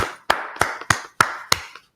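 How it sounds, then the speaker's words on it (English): Six sharp claps ring out in a slow, even rhythm, each a crisp close hit with a short tail, during a brotherhood class held by a religious group in Yonkers, New York. "Let's clap it up for the Lord."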